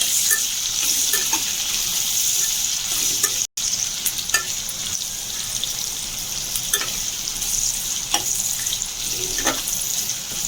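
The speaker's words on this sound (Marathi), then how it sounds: "ब्राऊन कलर होईपर्यंत भाजून घ्यायचा" Onions frying in a pan for veg biryani, cooked until brown, give off a bright continuous sizzle with crackling pops and stirring, close up, with no talking.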